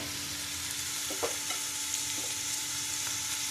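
Onions and green chillies fry in oil for matar paneer masala, giving a steady close hiss of sizzling with a few faint stirring scrapes and no talk.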